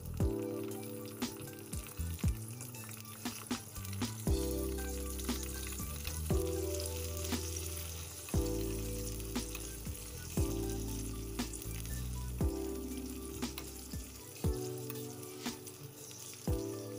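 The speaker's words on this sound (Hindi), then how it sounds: "हमें इसे पकाना है ताकि नीम का सारा एक्सट्रैक्ट जो है वो तेल में आ जाए।" Neem leaves cook in oil while being stirred for a homemade neem and camphor oil, a soft, steady sizzle with intermittent stirring clicks beneath prominent background music.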